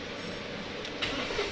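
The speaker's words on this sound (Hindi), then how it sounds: "ये देखिए गाड़ी स्टार्ट हो रही है।" A Mahindra Bolero BS6 diesel engine, showing a DEF error, cranks and catches in a brief, close mechanical rumble that rises near the end of a short stretch of steady hum.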